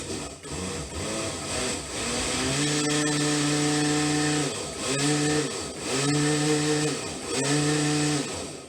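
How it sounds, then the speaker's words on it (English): A blender whirs loudly and continuously while blending crepe batter, its motor pitch rising and falling in several pulses as it runs, close up with no talking. "we're going to blend it until it's smooth"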